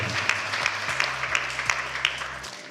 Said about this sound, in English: Let's clap for you if it is not here.